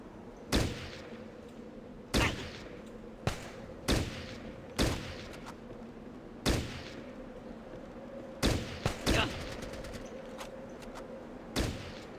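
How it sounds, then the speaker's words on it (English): Scattered gunshots in Fallout Tactics: Brotherhood of Steel, a dozen or so sharp cracks at irregular intervals, some single and some in quick bursts of two or three, over a steady low hum with no voices. "Somebody's shooting at us from somewhere."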